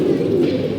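Pigeons kept in a home loft coo in a soft, low, continuous murmur, close and clear with no talk over them.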